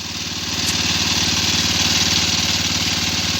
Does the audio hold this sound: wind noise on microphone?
no